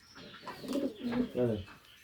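A pigeon coos in a breeding loft, one soft, throaty rolling call repeated in low pulses close by, with faint background noise.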